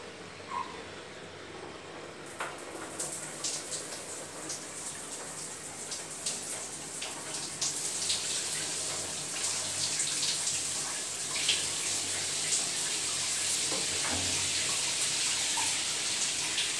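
Water running from a newly installed electric shower, a steady hiss of spray that grows fuller after a couple of seconds and continues evenly, close by, with no talking.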